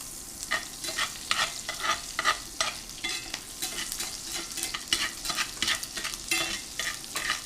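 Food stir-fried in a pan, with steady sizzling under repeated utensil scrapes and stirs, loud and close throughout and no talk.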